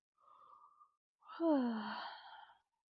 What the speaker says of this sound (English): Even force a yawn.